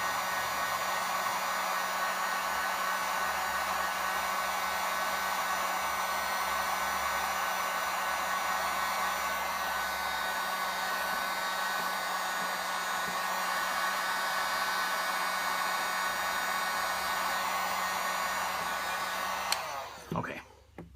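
A heat gun or hair dryer blows a continuous, even roar while warming an Obeanuf LP record. It runs close and unbroken for about twenty seconds, then cuts off abruptly, and no one speaks.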